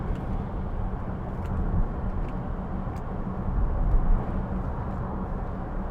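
Steady low rushing wind noise comes through the tilted sunroof of a 2013 Range Rover 3.0 TD V6 Vogue while driving, mixed with a broad road and engine rumble, constant and fairly loud.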